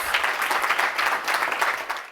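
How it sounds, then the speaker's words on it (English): An audience at a technology analyst summit in Barcelona gives a warm round of applause, a dense, continuous wash of many hands clapping that swells and then trails off. "please give them a warm round of applause"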